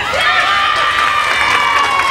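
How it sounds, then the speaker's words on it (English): A crowd at a 1988 Britain's Strongest Man event gives a sustained, sympathetic cheer for a competitor, a steady wash of voices from the stands. "So a sympathetic cheer there for George"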